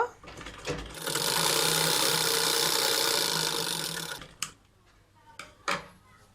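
A sewing machine stitches a hidden pocket into a salwar in a burst of about three seconds, a close, fast mechanical whir, followed by a few sharp clicks and handling knocks.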